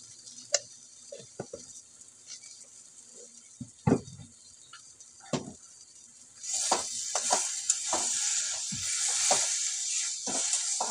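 Sizzling and crackling of spice paste frying in a pan over low heat, faint at first with scattered pops, then a steady louder hiss takes over for the second half.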